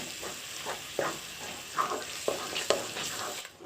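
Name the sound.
stirring tomato and coriander paste in a frying pan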